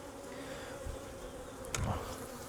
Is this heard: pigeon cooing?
no